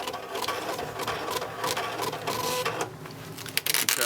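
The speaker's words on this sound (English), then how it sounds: "Sales receipt starts to print." An Eclipse credit card machine prints a sales receipt with a steady, dense mechanical buzzing and whirring, close and continuous throughout, ending in a few quick clicks.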